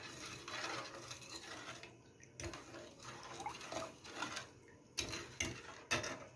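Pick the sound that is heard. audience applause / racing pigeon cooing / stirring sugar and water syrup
stirring sugar and water syrup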